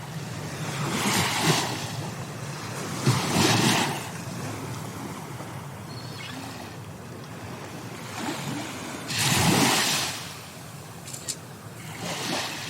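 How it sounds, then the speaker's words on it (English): Ocean waves roll onto a beach in recurring broad surges, some louder and nearer than others, with steady wind noise on the microphone between breaks. "we are on a beach right now. You can hear the waves, you can hear the seagulls."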